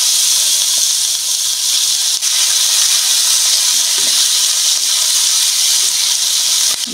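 Chopped onion sizzling in hot oil in a pan, a steady loud hiss and crackle that continues evenly with no talking.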